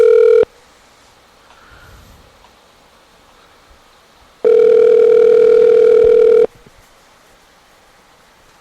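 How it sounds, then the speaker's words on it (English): A telephone rings on the line while a call is being placed: a short electronic tone at the start, a long silent gap, then a second steady ringing tone lasting about two seconds. "Let's see if Mr. Dan picks up."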